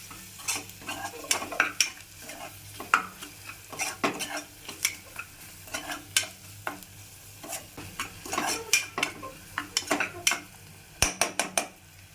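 A spoon scrapes and taps against a pan as ground spices and goda masala are mixed together for matar rice, with frequent sharp clinks and a faint sizzle underneath and no voices.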